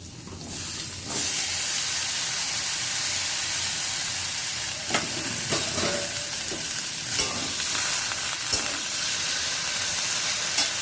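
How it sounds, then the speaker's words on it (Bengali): Chopped Malabar spinach drops into a hot pan and a loud, steady sizzle with steamy hiss follows, broken by a few stirring scrapes and knocks, close up with no talking. "এবার আমি কেটে রাখা পুঁই শাকটা দিয়ে দেব"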